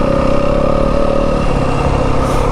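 A 2025 Yamaha WR250F dirt bike engine runs steadily while riding through the Arizona desert, a continuous mid-pitched drone heard from the rider's position.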